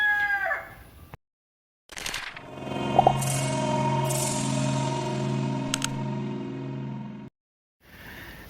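A Palakkad rooster crows loudly in a long, drawn-out call, with short clucks from Palakkad chickens before and after, close by and clear.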